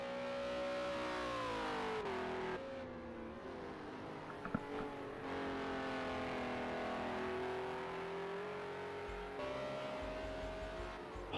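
Race car engine in a sim racing game, lapping Alton Park through turns 16 and 17: a steady, loud sustained engine drone with smoothly rising and falling pitch through gear changes, continuous throughout with no talk.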